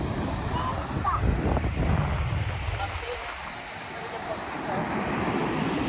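Steady wind rushing over the microphone with surf rolling underneath, a continuous outdoor roar by the sea.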